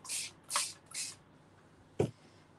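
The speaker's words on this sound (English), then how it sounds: "And then let's come in and spray." Three quick bursts from a spray bottle hiss close by in a fast rhythm, followed after a pause by a single sharp tap.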